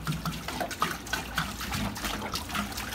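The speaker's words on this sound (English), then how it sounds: "I'm gonna dump water in here" Water dumped into a paludarium splashes and gurgles continuously at close range, a steady watery wash with small bubbling blips throughout.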